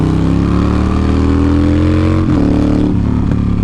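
A Yamaha Stryker chopper motorcycle with open pipes roars loud and close while being ridden, a deep, steady engine drone with rich harmonics that dips and surges briefly as the throttle shifts.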